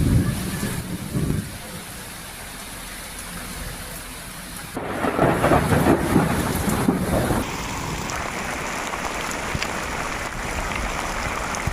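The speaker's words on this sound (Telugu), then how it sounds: "ఉమ్మడి వరంగల్, నల్గొండ, ఖమ్మం జిల్లాల్లో వర్షాలు వడగండ్లు పడ్డాయి" A heavy unseasonal storm in Telangana's Warangal, Nalgonda and Khammam districts brings rolling thunder over steady pouring rain with hail and gusty wind, loud and continuous with no talk.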